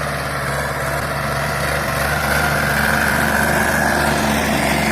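A small walk-behind tractor engine ploughs a damp ten-are field plot, a steady droning motor running loud and close without a break, with no voices.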